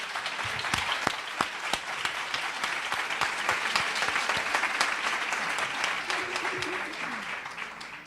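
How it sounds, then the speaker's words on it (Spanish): A church or lecture audience applauds for Benedict XVI on the tenth anniversary of his election, dense clapping with a few sharp individual claps standing out, sustained and fairly near for about eight seconds before easing slightly. "También habría que aplaudir hoy a Benedicto XVI, porque hoy se cumplen 10 años de su elección"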